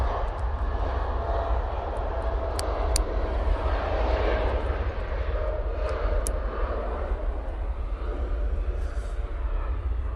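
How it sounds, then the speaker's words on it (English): An Emirates Airbus A380 arriving at Manchester Airport after a flight from Dubai, a steady broad jet roar that fills the whole clip at a moderate distance, with faint higher clicks now and then and no voices. "this is the Emirates A380 coming in from Dubai"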